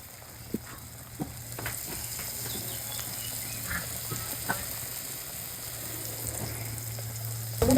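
Besan-coated eggplant fritters (beguni) fry in hot oil with a steady, soft crackling sizzle throughout, scattered louder pops and a small clatter near the end.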